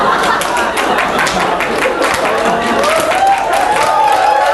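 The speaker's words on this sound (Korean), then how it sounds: "자, 해병대 박수 준비!" A crowd at a pastors' children's camp claps together in marine-corps style, sustained and rhythmic, with cheering and voices layered over the clapping throughout.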